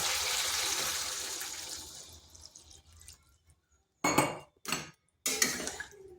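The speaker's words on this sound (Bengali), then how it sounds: "এখানে দিয়ে দেব জল।" Water is poured into a pan of simmering rohu fish curry with ridge gourd: a loud hissing rush fades out, then three short, sharp splashy bursts follow.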